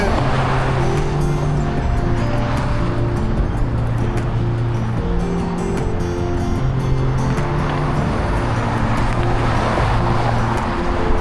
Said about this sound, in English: It's very loud on this bridge because of all the traffic